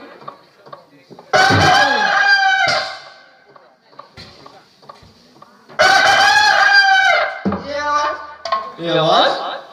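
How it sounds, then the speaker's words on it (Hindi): A rooster crows loudly twice, close by, each long call rising and trailing off, with clucking and other farmyard sounds between. "ये आवाज, ये तो मुर्गा का आवाज है भाई।"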